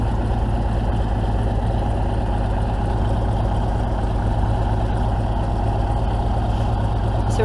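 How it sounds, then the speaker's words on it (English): Skid steer engine idling while warming up on a pasture being readied for fencing, a loud, steady, low diesel rumble with an even pulsing throb and no pauses. "I got the skid steer warming up"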